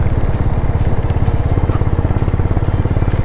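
Honda Highness motorcycles thump close by with a loud, rapid, pulsing single-cylinder beat, the engines rumbling steadily with no speech.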